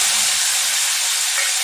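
Chopped tomatoes hit hot ghee and oil already crackling with mustard seeds, fenugreek and dried chilli, giving a loud, steady sizzle and hiss close by, with a few sputtering pops at the start.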